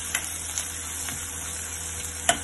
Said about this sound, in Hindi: लहसुन के बाद हम प्याज डाल देंगे। प्याज को मैंने थोड़ा बड़ा बड़ा काटा है और साथ में हरी मिर्च भी डाल देंगे